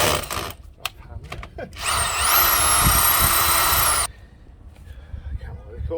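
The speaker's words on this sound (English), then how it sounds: "Try the other drill." A power drill whirs steadily for about two seconds, drilling out screws on the brakes of a Fiat Punto, with clattering handling noises and talk before and after.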